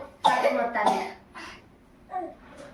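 A child coughs twice in quick, loud bursts up close, followed by a fainter cough and a small throat sound indoors at home.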